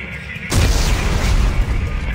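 Explosives detonate in the sci-fi game Dead Space 3, a sudden loud blast after a quiet hum that becomes a sustained rumbling roar and debris noise for well over a second.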